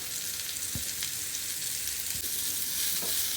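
Paneer pieces fry in a pan over a full high flame, giving a close, continuous sizzle with a few soft clicks and spatters.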